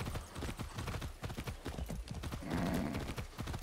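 Galloping horse hooves in Far Cry 6 as a rider urges the mount faster, a steady rapid clip-clop rhythm pounding close and loud throughout, with a brief whinny-like burst near the end.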